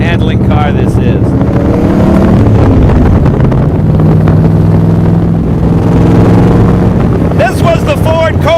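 Allard J2X MkII sports car with a big V8 engine driving hard, a loud, steady, torquey roar heard from close by amid heavy wind buffeting, with someone talking over it.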